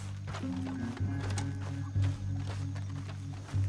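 Horse hooves clop along over a low droning background in Red Dead Redemption 2, with a whinny rising briefly partway through.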